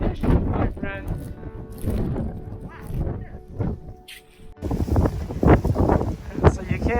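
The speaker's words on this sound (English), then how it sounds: "The wind just crazily got even higher." Strong wind gusts during a New Jersey snowstorm, roaring and buffeting the microphone continuously and loudly, with a louder blast near the end, while someone talks over it.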